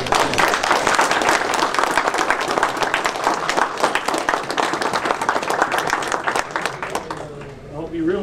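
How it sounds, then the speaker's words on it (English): A dinner audience at an astronomy society's annual meeting bursts into sustained applause for the evening's host, dense crowd clapping at full strength for several seconds before fading, with some voices mixed in. "let's give a round of applause for our host this evening"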